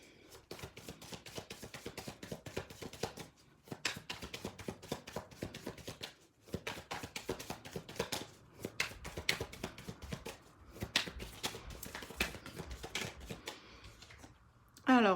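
A deck of tarot cards being cut and handled for a daily reading, producing dense runs of crisp card snaps and shuffling taps with brief pauses, close by.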